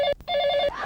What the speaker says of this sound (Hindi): अचानक फोन की घंटी बजी